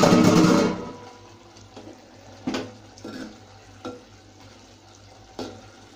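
Vegetables and ground biryani masala are stirred together in a handi, starting with a loud burst of sizzle that settles into quieter frying broken by several distinct scraping strokes of a spoon; no talking.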